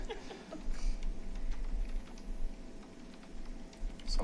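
Fingers type quickly on a computer keyboard, a steady patter of close key clicks with brief pauses, heard in a quiet room with no talking.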